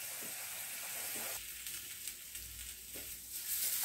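Onions sautéing in a pan for a green gram and coconut curry give a steady, soft sizzle and hiss, with a few faint stirring scrapes under it. No one speaks.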